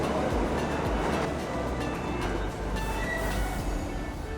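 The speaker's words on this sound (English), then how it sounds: "it was time for another first, that being their first subway ride." Ride aboard a New York City subway train, with a steady loud rumble and rattling wagon noise throughout, faint high screeches on top and no talking.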